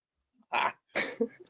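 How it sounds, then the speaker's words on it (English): Two short, sharp coughs sound close by in a quiet room, separated by a brief pause and trailing off with a small throat sound. "Cough."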